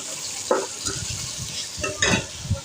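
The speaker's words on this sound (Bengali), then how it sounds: "টমেটোগুলো দিয়ে একটু ভালোভাবে নাড়াচাড়া করব।" Tomatoes are stirred into fried onion and chili in a frying pan for homemade noodles, with a low sizzle under several scraping, clattering strokes of the spatula against the pan.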